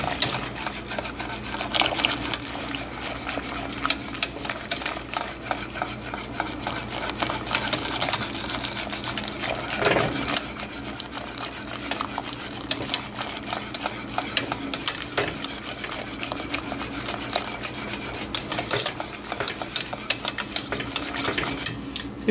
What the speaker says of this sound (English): So now at this point, we're gonna slowly stir it into the milk.